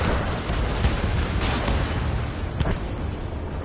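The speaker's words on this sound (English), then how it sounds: "Gunfire and the roar of jets echoing through the streets." Explosions and gunfire in the Ace Combat 7 video game, a loud continuous wash of rumbling blasts with a few sharp bursts cracking through, no talking over it.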